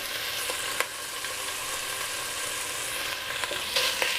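Chorizo sizzles and fries steadily in a pot of Tex-Mex chili, a close, continuous crackle with a few sharp ticks and pops as the meat hits the hot surface, no voices.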